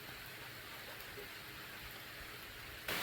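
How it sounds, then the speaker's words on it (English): Steady rain falls during a July thunderstorm with gusty winds, a dense hiss that is even throughout and swells louder in the final moment, with no voices. "It's just rain."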